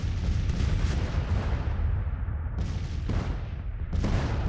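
Artillery fire on a Civil War battlefield in the strategy game Grand Tactician: The Civil War, a low rumbling barrage with a few sharper distant booms punctuating a continuous roar.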